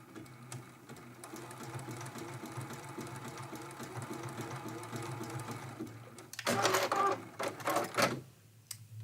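A domestic sewing machine runs a test zigzag stitch, length 2.0, on a fabric scrap, a steady close mechanical whir with rapid needle ticking that ends in a few louder bursts.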